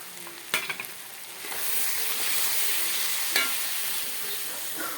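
Tomatoes hit a hot pan of roasted spice powders and set off a broad, steady sizzle that swells and holds, with a few sharp clinks of stirring near the start and again midway.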